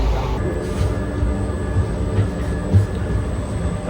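A train rumbles steadily, a low continuous roar with a faint high whine above it and occasional small knocks, heard from on board with no talk.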